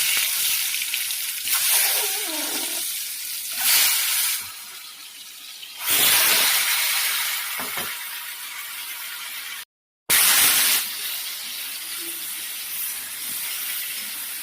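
Mango pieces go into hot oil with panch phoron, already burnt, and set off a loud, steady frying sizzle and hiss with several swelling bursts, near and continuous.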